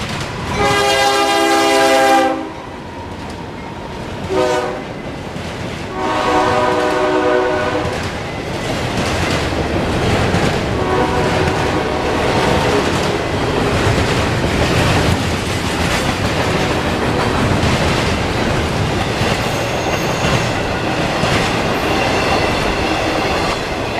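A CSX freight train with a Western Maryland emblem unit and an MP15AC switcher passes close by in Central Florida, opening with a loud multi-tone horn blast, then more horn calls over a steady roar of rolling cars and clattering wheels.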